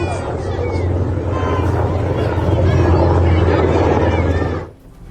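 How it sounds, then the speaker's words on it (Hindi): A Black Hawk helicopter flies with a steady low engine drone and rotor-like throb, overlaid by broadband noise and distant voices, cutting off abruptly near the end. "ये ब्लैक हॉक हेलीकॉप्टर है"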